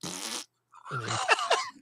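Two short farting blasts, a buzzy one, a brief pause, then a longer sputtering one with wavering pitch, close and fairly loud with no speech over them.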